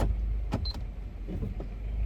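Electric power seat motor in a car running in short whirring bursts, with a couple of faint clicks and mechanical thumps inside a quiet cabin.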